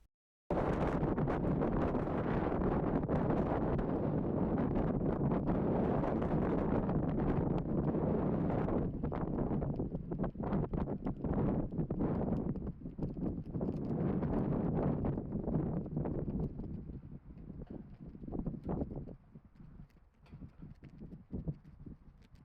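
Wind gusting outdoors at the Belfort barracks, a loud continuous rushing buffet on the microphone that gradually eases and turns patchy toward the end.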